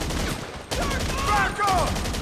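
Gunfire in GTA 5 Online: dense, continuous bursts of video game shots fill the whole stretch, loud and sustained, with a brief dip partway before the barrage resumes.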